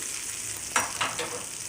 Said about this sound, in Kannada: ಇದು ಚಟ್ನಿಗೆ ಒಗ್ಗರಣೆ ಹಾಕೋದು